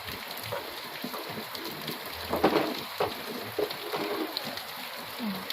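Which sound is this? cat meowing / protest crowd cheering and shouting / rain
rain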